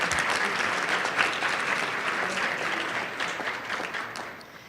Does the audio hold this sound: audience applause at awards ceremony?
yes